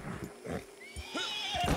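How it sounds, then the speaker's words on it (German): A horse in the Red Dead Redemption II online game whinnies in a few short, close calls with a rising and falling pitch, mixed with other in-game noise and low thuds. "Ein Pferd läuft mich ab."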